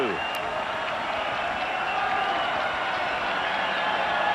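A large baseball stadium crowd at an Athletics versus Tigers game rises to its feet with sustained applause and cheering, a broad, steady roar heard under a commentator's voice.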